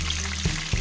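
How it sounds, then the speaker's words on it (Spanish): Pieces of rabbit dropped into hot oil hiss with a dense, steady frying sizzle, punctuated by two soft low thumps as more pieces go in, with no talking. "Cuando tenemos el aceite bien caliente, vamos a ir echando los trozos del conejo para sellar la carne."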